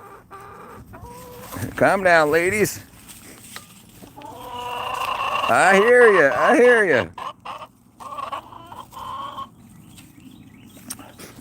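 Backyard hens cluck and squawk loudly in two bursts, one short and one longer and rising, close by, with someone talking calmly to them in between.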